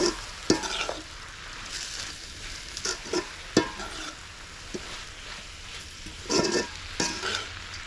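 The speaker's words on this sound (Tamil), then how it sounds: "உப்பு சேர்த್து நல்லா கலந்து விட்டுடலாம்" Salted moringa greens are stirred as they fry in a pan, a low background sizzle punctuated by irregular spatula scrapes and clanks against the pan, close by, no voices.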